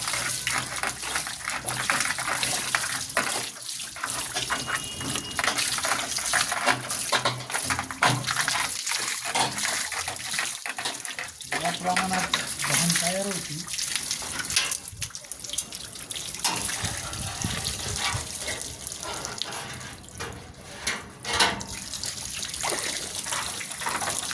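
Water sprays steadily while washing rooftop solar panels, a continuous close gushing hiss with a few trickling and splashing variations, lasting throughout with no pauses.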